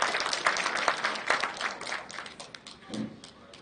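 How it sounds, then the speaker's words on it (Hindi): Audience applause for performer Aman Singh Bist at a Rashmirathi poetry recitation, a moderate patter of clapping that fades and swells briefly near the end. "तालियां हो जाए अमन सिंह बिष्ट के लिए।"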